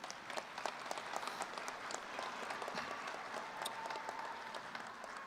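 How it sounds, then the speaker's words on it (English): A spring commencement audience at United Tribes Technical College applauds Pastor Gray Eagle after his prayer, a steady, moderately faint patter of many hands clapping from across a large room, even and continuous throughout. "One more round of applause, Pastor Gray Eagle."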